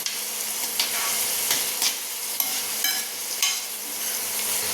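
Onion frying in a pan with turmeric, a continuous close sizzle punctuated by several sharp stirring scrapes spaced about a second apart.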